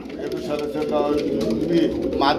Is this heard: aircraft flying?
no